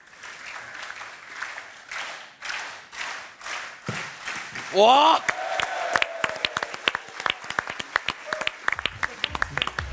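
Studio audience applauding on a German sports entertainment show, a steady clapping crowd for the first seconds, then a loud exclamation and a brief whoosh, with scattered claps continuing under a host's voice.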